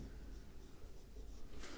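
Chalk or marker writing on a board during a maths lesson, a faint continuous scratching and rubbing in a quiet room.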